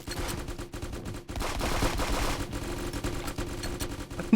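Turrets fire in a video game as rapid bursts of gunfire, dense and continuous with short gaps, loud and close.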